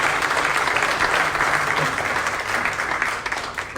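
Audience clapping at the close of a panel session at a meetup event, a steady, full wash of many hands applauding throughout and tapering slightly at the end.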